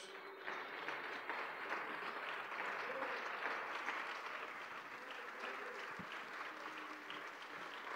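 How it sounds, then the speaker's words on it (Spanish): Congregation applause during a Spanish-language church service in Houston, Texas, a steady, fairly faint wash of clapping heard from a distance, with a single louder thump near the end. "Dele un aplauso a Jesús."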